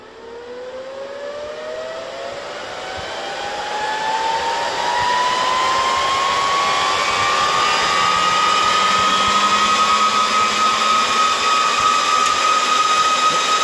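Loud, steady mechanical whine of an older crypto mining rig with fans rising in pitch and volume over the first seconds, then holding a constant roaring drone.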